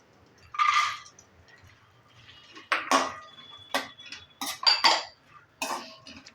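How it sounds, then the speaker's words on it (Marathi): Cashews are dropped into a metal pan and moved around, giving a series of bright clinks and scraping taps separated by short quiet gaps, close and fairly crisp. "पहिल्यांदा मी काजू घालून घेत आहे"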